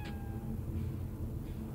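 A cat meows briefly in Cyberpunk 2077, a short game-world mew over a steady low hum of city ambience.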